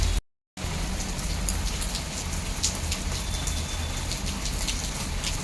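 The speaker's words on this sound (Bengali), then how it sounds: "সামনে বৃষ্টি পড়ছে আর এরকম বসে বসে যে চা খাবার মজাটাই আলাদা।" Heavy rain falls steadily outdoors onto a waterlogged field. It makes a dense, even hiss that continues without a break, apart from a brief dropout at the very start.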